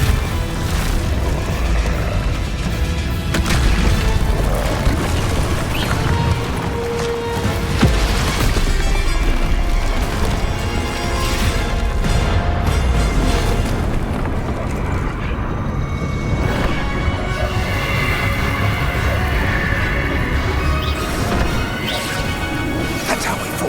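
Expulso, a spell cast in Hogwarts Legacy, unleashes crashing blasts and smashes mixed with whooshes and mechanical clatter in loud, busy battle noise that carries on throughout.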